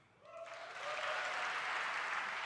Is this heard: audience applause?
yes